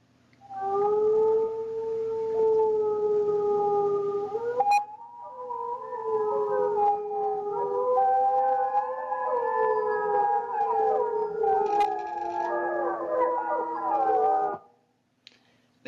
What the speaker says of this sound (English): a classic wolf chorus howl